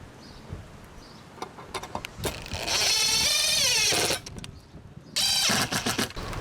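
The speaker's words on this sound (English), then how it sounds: "I'm using this drill" A handheld power drill drives screws into an untreated pine board during a dormer window repair, two whining bursts of a few seconds each after short clicks and taps, loud and close.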